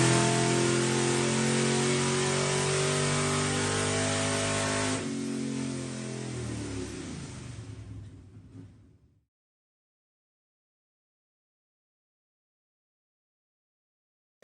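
Camaro drag-racing engine roaring loud and steady on a dynamometer during a full-throttle pull with 94 and 96 jets, running rich, its pitch shifting near the end before the sound cuts off into silence.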